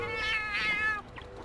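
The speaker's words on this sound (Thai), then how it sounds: "นี่ไงพวกแมว" Cat meows from the video game Monster Hunter Stories, a drawn-out, tonal, wavering meow lasting about a second, followed by a brief softer cry over a faint game background.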